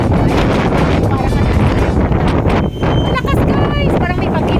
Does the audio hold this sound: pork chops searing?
no